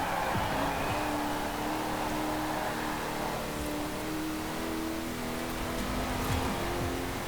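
Car engine droning steadily through a racing lap in Forza Horizon 4, a modified car chasing a Mini, with sustained revs, shifting pitch and occasional tire squeal, loud and continuous without talk.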